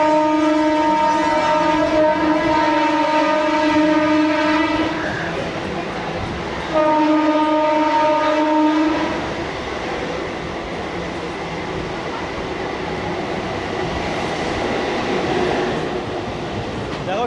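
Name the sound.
Howrah to Digha local train running after leaving Santragachi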